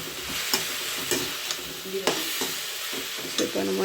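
Tomatoes fry with salt in a pan as a utensil stirs them, giving a steady close sizzle with scraping strokes about every half second.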